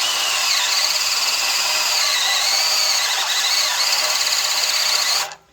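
A slow Makita gear-drive drill bores into metal while making a backhoe boom lock, giving a loud, continuous high-pitched whine and squeal that wavers slightly, then stops abruptly at the end.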